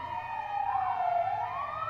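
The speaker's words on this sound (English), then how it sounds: "Is it a fire truck?" A fire truck siren wails with a gliding tone that falls and then rises again, brief and moderately loud, with no voices over it.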